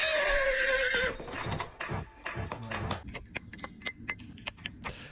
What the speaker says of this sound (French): on va entendre un cheval brailler